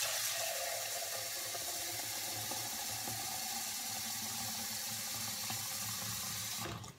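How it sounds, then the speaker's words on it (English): Cold tap water runs steadily into a container, a constant close rushing splash that stops abruptly at the end. "Fill the rest with some cold water."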